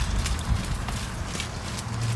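Horse hooves trotting on the footing of an indoor riding arena during a gymnastic riding clinic, a steady muffled clip-clop running continuously at close range with low rumbling movement underneath.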